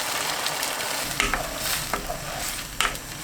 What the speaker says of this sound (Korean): 양념 넣고 1분 30초 볶습니다.